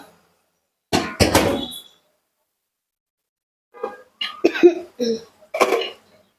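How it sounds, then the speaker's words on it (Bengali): A person coughs indoors in two separate bursts, a harsh cluster of hacking coughs, then a pause, then several more coughs, close and clear against near silence. "কিসের কাশি আসে এটা"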